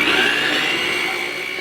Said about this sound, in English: put down my mixer and just whisk this around until it starts to crumble